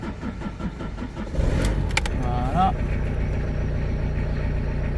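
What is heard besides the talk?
truck engine warming up at idle, accessory belt whistling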